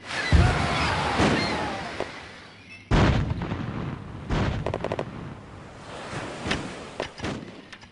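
Gunfire volleys and artillery booms from the video game Empire Earth 2, loud repeated blasts and crackling shots in clusters, with sharp onsets and rumbling decay, no talk.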